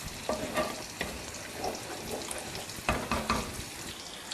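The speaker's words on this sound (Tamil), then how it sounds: "கிரேவி பாருங்கள் நல்லா கொதிச்சுக்கிட்டு இருக்கு" Steady bubbling and sizzling of tamarind gravy for ivy gourd (kovakkai) kuzhambu boiling in a pan on the stove, with occasional louder pops and spatters, close and continuous.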